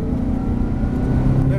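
A Ferrari 360 engine hums steadily from inside the car, its note climbing slightly toward the end as the car builds speed.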